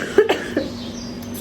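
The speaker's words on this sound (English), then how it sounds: "this is the cough that I've been telling you about" A few sharp coughs in quick succession near the start, then quiet breathing and low background hum.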